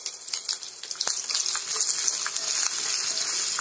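Garlic dropped into a pan with roasted coconut, frying with a steady close crackling sizzle that holds evenly throughout, with no voices.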